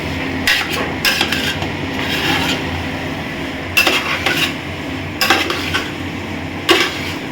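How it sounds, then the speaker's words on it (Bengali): Dishes and cutlery clatter in a neighbour's kitchen during cooking, with sharp metallic clinks and knocks coming in clusters over a steady background hum, and no one speaking. "ওটা পাড়ার রান্না হচ্ছে মনে হচ্ছে।"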